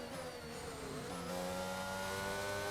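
A Formula 1 car engine in the racing game F1 22 whines at a high, steady pitch that climbs as it accelerates, close and continuous.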